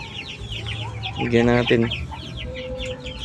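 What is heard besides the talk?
free-range chickens clucking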